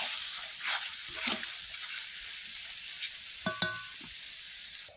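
Turmeric, chili powder and red chili powder being stir-fried with softened ingredients in a pan, a steady hiss with a few scrapes and a brief metallic clink near the end.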